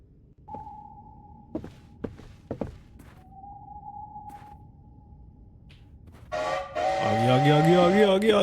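A goods train arrives at a railway station at night, a long loud horn blast swelling in near the end after quiet tones and scattered knocks, with the rumble of the train building beneath it.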